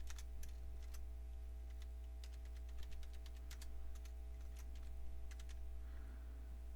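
Keys clatter on a computer keyboard in quick irregular taps, close and fairly quiet over a steady low electrical hum.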